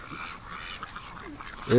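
Ducks in a winter barn give a few soft, scattered quacks, close by, before a louder call at the very end.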